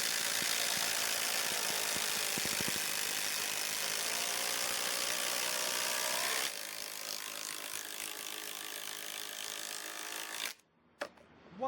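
Cordless Kobalt and Ryobi impact drivers racing at speed setting 3, a fast buzzing whine with rapid rattling hammer clicks that drops in level partway through, then stops, followed by a few brief knocks.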